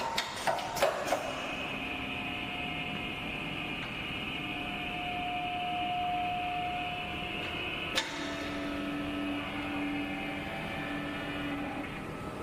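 An automatic strap webbing cut-and-sewing machine runs in full-auto mode with a steady mechanical hum and whine, punctuated by a few sharp clicks and clacks near the start and one distinct knock midway, no talking.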